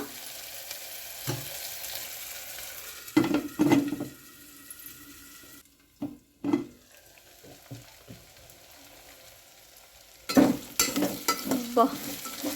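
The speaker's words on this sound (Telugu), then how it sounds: "కాసేపు వీటిని నూనెలో మగ్గనివ్వాలి" Brinjal and other vegetables cook in oil in a pan for a curry, a soft sizzle broken by several bursts of scraping and clattering as they are stirred. The sound is fairly close, with no speech.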